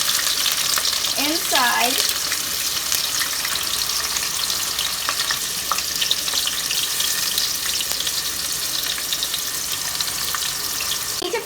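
Onion frying in a pot as a base for country chicken biryani, giving a continuous loud sizzle with a brief rising squeak early on and a word or two of faint speech.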